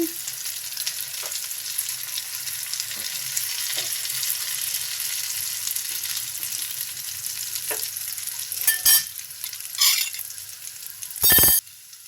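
Pasta and noodles frying in a pan give an even, close sizzle, broken by soft taps and then several loud metallic clanks and scrapes of a utensil toward the end, with no one speaking.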